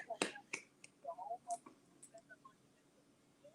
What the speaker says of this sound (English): We applaud the